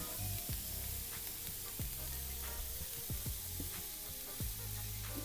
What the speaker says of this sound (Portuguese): refogar um pouco essa abobrinha aqui